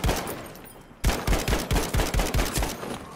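Rapid bursts of gunfire from a player's weapon in Battlefield 5 team deathmatch, a short burst followed by a pause, then a steady run of sharp, loud shots close by.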